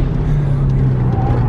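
A Mitsubishi Evo engine revs hard at redline in third gear, a loud, steady drone heard from inside the car, with a thin whine rising near the end.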